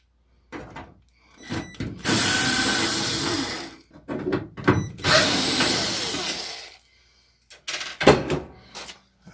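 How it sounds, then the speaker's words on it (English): A power drill backs screws out of the faceplate of a Kenmore front-load washing machine, in two long loud whirring runs of about two seconds each, framed by short clicks and handling noises. "Now I'm going to remove this screw right here and that one"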